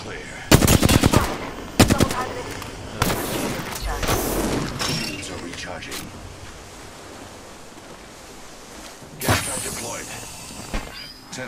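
Automatic gunfire in an online shooter game, rapid bursts of shots loud and close at the start, then quieter distant fire and another burst near the end, with players talking over it.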